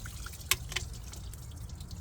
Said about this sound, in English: You see all the water draining out.